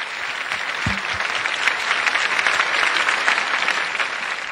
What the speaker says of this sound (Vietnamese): Một tràng pháo tay thật lớn đi ạ.